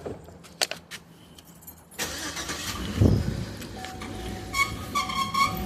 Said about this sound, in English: That was just that belt making that noise.